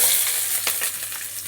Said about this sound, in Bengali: কুচনো পেঁয়াজটাকে একটুখানি ভেজে নেব লঙ্কার পেঁয়াজটাকে একটু লাল লাল করে ভেজে নেব